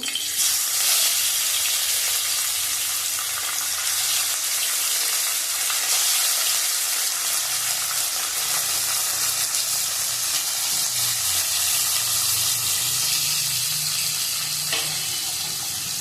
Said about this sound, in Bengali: তেল গরম করে নিয়েছি, মাছগুলি একটা একটা করে ছেড়ে দেবো